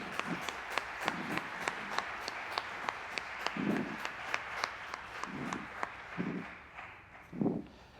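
A small audience at a security conference talk on macOS XPC exploits gives faint, scattered applause, with sharp individual claps spread across several seconds at a distance.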